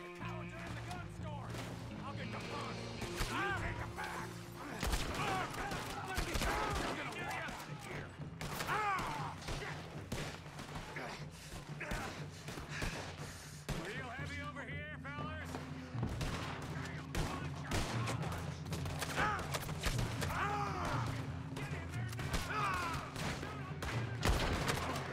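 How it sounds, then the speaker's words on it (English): Gunfire in Red Dead Redemption 2, bolt action rifle shots and scattered bursts ringing out repeatedly over game music and mechanical clatter, with someone talking throughout. "Use that bolt action rifle."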